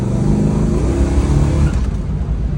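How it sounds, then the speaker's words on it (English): A 1970 Dodge Coronet R/T convertible's engine roars loudly up close as it accelerates hard, the revving pitch climbing steadily; no distinct tire chirp stands out. "She chirped the tires there."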